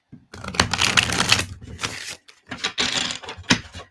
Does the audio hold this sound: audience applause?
no